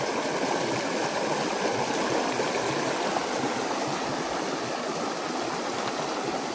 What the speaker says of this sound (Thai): นี่น้ำใสมากเย็นมากเลยนะครับ เดี๋ยวขออนุญาตล้างขาก่อนนะครับ